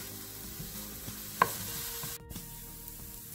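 Ginger sautéing in a pan over a medium flame and being stirred, producing a soft, low sizzle with occasional spatula knocks and scrapes, close but fairly quiet, with no voices.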